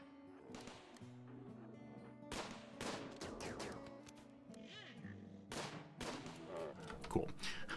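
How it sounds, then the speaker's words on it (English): Automated turrets firing in the Rimworld colony game, sharp repeated gunshot bursts at intervals over a busy layered game soundscape, fairly quiet. "Turrets go."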